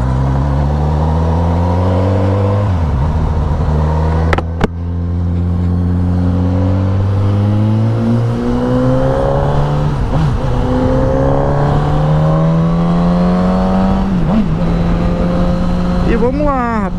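A motorcycle pulls away and accelerates through several gear shifts, engine pitch climbing and dropping in repeated sweeps, close and loud amid traffic.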